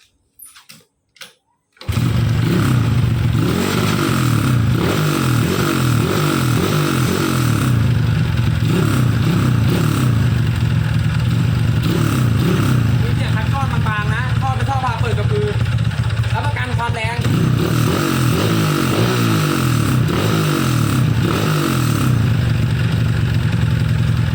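A 125R motorcycle with a modified engine and hand clutch starts up after a few clicks, then idles loudly and steadily close by, with throttle blips and revs rising and falling through the middle.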